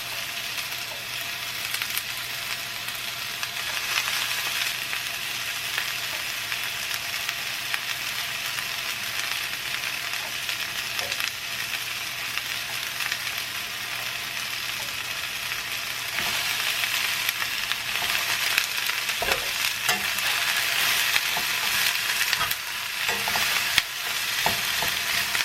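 Thin-sliced steak for Philly cheesesteaks sizzles steadily in a hot pan, a broad continuous frying hiss that swells louder in the second half, with occasional clinks and scrapes of the meat being broken up, and no voices.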